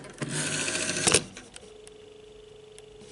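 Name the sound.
telephone dial tone on GEC well phone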